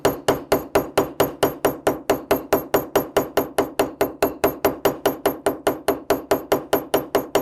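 Hammer tapping a brass rivet with a choked-up grip, a fast, evenly spaced run of about thirty sharp light strikes, close and steady.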